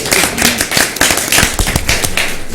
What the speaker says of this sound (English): Clap for our firefighters.